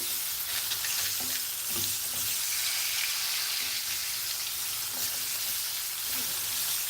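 Chopped onion frying and being stirred in curry-infused coconut oil for a Sierra Leone green leaves dish, a steady close sizzle throughout with faint scraping stirs, alone without talk.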